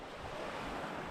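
Soft lapping of waves on the shore of Great Slave Lake near Hay River in the Northwest Territories, a quiet continuous wash with light wind across the microphone and no talk.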